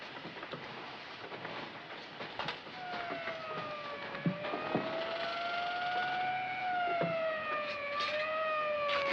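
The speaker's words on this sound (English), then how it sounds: "There's an ambulance coming" An ambulance siren rises in a steady wailing tone from a 1940s film scene, growing louder as it approaches over a few seconds and sounding alone without talk.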